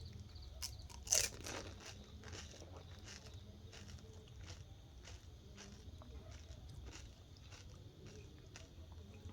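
Fuchka stuffed with water and potato being eaten, soft close crunches and chewing with one louder bite early on, faint and intimate against a quiet room.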